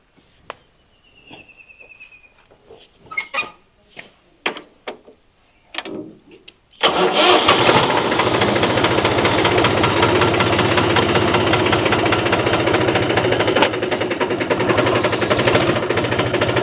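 A tractor engine catches after scattered clicks and knocks, then runs steadily and loudly with a fast, rhythmic putt-putt chug and rattling knock that continues unbroken to the end.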